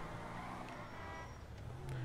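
A Vapid car engine in GTA 5 hums and revs in a steady, low, fairly quiet drone with a slight rise near the end, alone with no talk.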